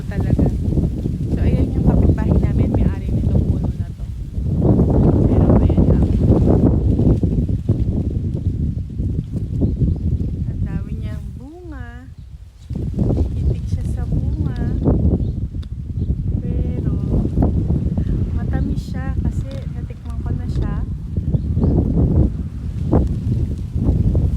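Loud, gusty wind buffets the microphone almost continuously, with a person talking and a brief lull partway through.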